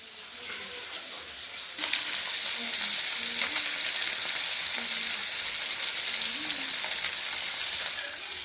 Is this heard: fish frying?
yes